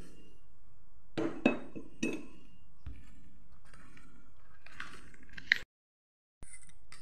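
A spoon clinks against a glass or bowl while stirring custard powder into lightly warmed milk. The sound comes as a few close, bright taps and scrapes with quiet gaps between them.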